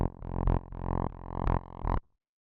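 Mid-range FM synth bass layer from Ableton Operator, playing a short run of about six sustained, buzzy notes with brief brighter attacks, loud and alone, then stopping abruptly.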